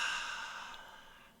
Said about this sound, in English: You hear breathing behind you now.